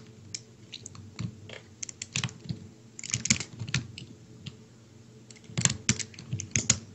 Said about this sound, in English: I have a loud keyboard.